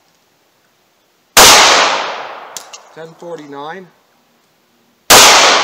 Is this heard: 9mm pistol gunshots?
yes